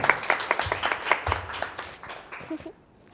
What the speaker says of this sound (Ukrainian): І так, оплески ще раз.